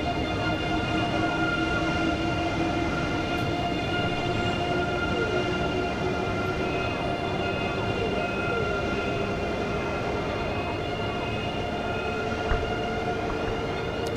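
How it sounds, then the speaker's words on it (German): A German ICE high-speed train pulling away from Hannover Hauptbahnhof in Train Simulator 2014, a loud continuous electric whine with rising tonal hums over rolling wheel rumble, sustained and steady, with no talk. "So, könnt ihr auch den Zug bei der Abfahrt bestaunen."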